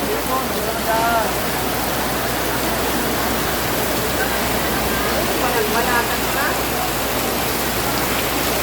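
Steady rain falls outdoors at a market in Laguna, a constant broadband hiss throughout, loud and close, with faint voices and chatter underneath.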